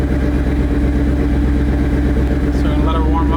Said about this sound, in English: She's idling good.